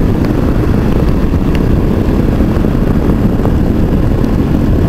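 A Yamaha Drag Star 650 motorcycle is ridden, giving a loud, steady, dense low rumble of engine and wind noise that holds throughout without a break.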